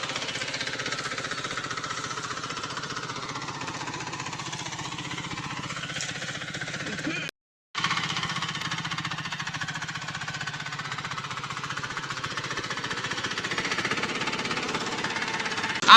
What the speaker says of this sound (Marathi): आज आता बाबा चालवणार आहे ट्रॅक्टर.